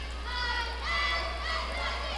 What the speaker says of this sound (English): Hear the crowd still getting loud.